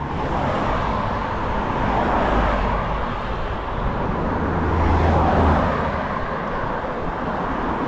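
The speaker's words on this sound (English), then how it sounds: "the traffic up here is laughable how busy it is" Busy two-lane country road, Paoli Pike in hilly Indiana, with cars rushing past one after another in a steady roar, one swelling pass near the middle and another louder one toward the end, no voices.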